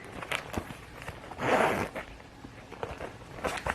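A zipper inside a Gucci handbag is pulled open in one quick rasp, surrounded by soft rustling and handling noises, close and fairly quiet.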